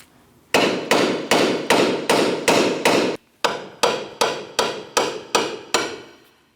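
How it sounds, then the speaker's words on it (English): Sharp metallic hammer strikes on a ball joint stud of a 2003-2007 Cadillac CTS front upper control arm ring out in a steady rhythm, seven blows, a brief pause, then seven more, loud and close. "Let's attempt to tap first with a hammer."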